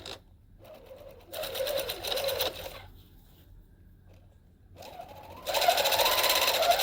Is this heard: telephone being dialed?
no